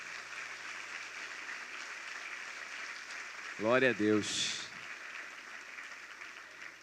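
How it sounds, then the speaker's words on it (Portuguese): Church congregation applauding during a service, a continuous spread of clapping beneath a brief exclamation from a voice in the middle. "Vamos aplaudir?"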